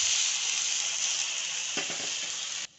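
Water hits a hot frying tempering of browned onion, garlic, turmeric and chili powder for Maharashtrian zunka, producing a loud, continuous sizzling hiss that cuts off abruptly near the end.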